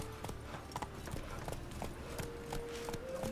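Roach, a horse in the video game The Witcher 3, trots with quick, even clip-clop hoofbeats on hard ground, close and distinct, a steady rhythmic patter running the whole stretch.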